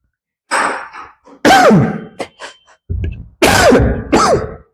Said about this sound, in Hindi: सॉरी बच्चों, खांसी आ रही है।